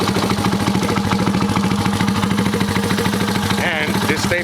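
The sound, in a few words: Honda Dax CT70 clone minibike engine running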